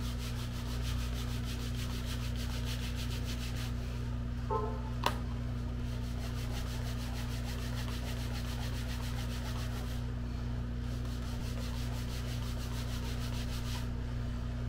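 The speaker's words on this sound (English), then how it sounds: "I'm going to do that same kind of burnish technique along this top edge here" The top edge of a leather card envelope wallet is burnished with steady, faint rubbing strokes over a constant low hum.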